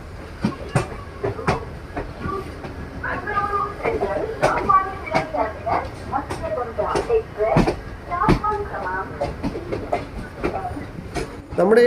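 An intercity train pulls into Mangalore Central railway station, with steady rumble and repeated sharp clicks of wheels over rail joints throughout, while people talk faintly nearby.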